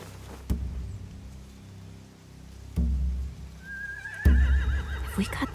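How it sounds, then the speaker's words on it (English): Horses in The Walking Dead: The Final Season video game neigh and whinny, with a couple of low snorts or stamps before a rising, wavering whinny near the end, fairly close and clear with no talk over it. "They have horses."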